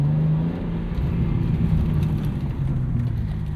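A 2025 BMW M2 with a 473 hp engine and six-speed manual gearbox cruises on the road, a steady low engine drone and whir heard from inside the car, loud and continuous with no talking.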